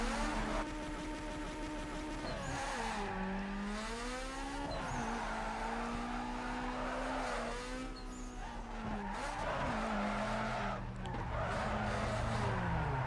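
Rally car drifting in Need for Speed Underground 2, with a steady engine drone whose pitch rises and falls through the corners and near, continuous tire skidding and squealing, loud throughout with no pause.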